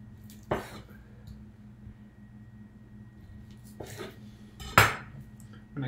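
A knife cuts pieces off a cucumber on a board, giving two or three sharp, distinct chops spaced a few seconds apart over a low, steady background hum.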